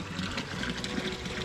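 Water running at a village washhouse, a continuous splashing trickle and flow with a bright, bubbling texture, close by and steady throughout.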